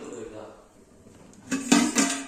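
Washed metal kitchen utensils and dishes clink and clatter close by as they are turned over to dry, a burst of rattling after a quieter stretch, with faint talking in the background.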